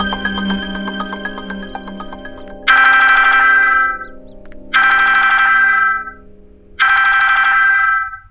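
A phone ringtone plays repeatedly, a loud melodic electronic tone sounding in three regular bursts with short gaps between them, over a quieter musical background.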